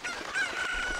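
A chicken clucks and crows in Ocarina of Time, a brief, faint burst of game fowl calls with a thin, sustained tone underneath and no voices.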